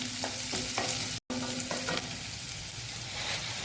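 Onions frying in a pan, a close, steady sizzle broken by scraping stirs, with one brief silent dropout partway through and no voices.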